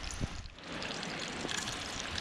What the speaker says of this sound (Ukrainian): такий оранжевий струмок класний